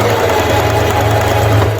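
A home sewing machine stitches steadily for a puff quilt, its motor whirring with a rapid, even mechanical chatter that stays loud and close throughout.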